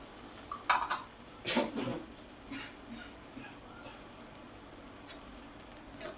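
Chopped coriander and garam masala are stirred into bottle gourd bharta off the heat, a spoon scraping and clinking against the pan in a few short bursts, moderately loud, then quieter soft scraping.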